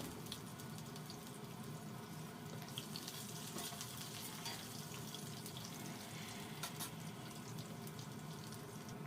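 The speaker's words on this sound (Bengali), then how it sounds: "এবার সবজিগুলো একটু ভালো করে ভেজে নেব" Potato, eggplant and ridge gourd frying in a pan for a pumpkin-greens chachchari, a steady, dense sizzle with a watery, hissing texture that stays even and fairly quiet throughout, with no voices.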